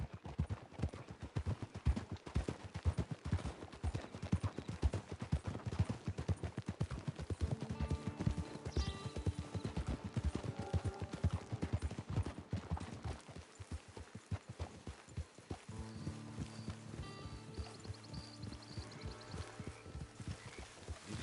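Horse hooves clip-clop at a steady, rhythmic pace in Red Dead Redemption 2, close and clear. Soft background music joins in partway through.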